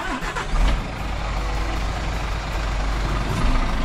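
A Scania truck hauling a livestock trailer pulls away, its deep engine rumble rising and holding steady and close for a few seconds, with a brief air-brake hiss near the start.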